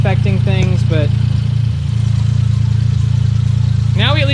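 A Suzuki Cappuccino engine running Microsquirt holds a cold idle as a steady, low, even hum, with someone talking over it at the start and end.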